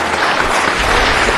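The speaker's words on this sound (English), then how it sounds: "They deserve a round of applause just for that." A city council meeting audience breaks into applause, a brief, loud burst of many hands clapping that stays steady for a second and a half.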